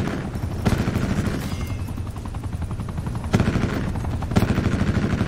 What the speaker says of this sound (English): Attack chopper is going in.